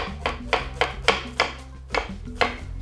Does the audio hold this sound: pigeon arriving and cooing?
no